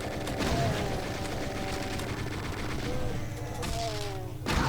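Rapid, continuous chaingunner gunfire in Doom 2, dense repeated shots mixed with other game sounds, loud and steady for the whole stretch.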